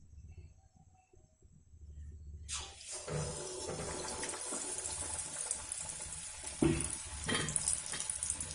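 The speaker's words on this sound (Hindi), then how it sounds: "और इन मिर्चियों को भी हम इसी तरह से डीप करके डाल देते हैं फ्राई होने के लिए।" Chillies for mirchi vada dropped into hot oil for deep frying, a sudden loud hiss that settles into continuous bubbling sizzle with a few louder pops, close up.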